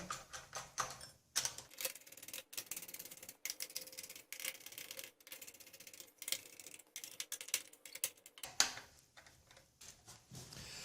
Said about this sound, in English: And then go ahead, screw these down, one by one.